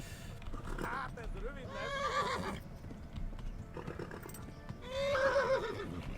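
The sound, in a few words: horse neighing in a video game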